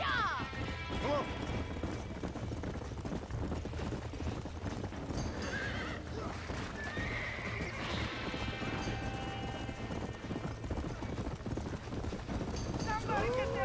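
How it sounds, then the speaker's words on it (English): Horses trapped in a burning barn in the game Red Dead Redemption whinny and neigh repeatedly over clattering hooves and occasional crashes, forming a loud, continuous, chaotic scene. "Somebody get them horses out!"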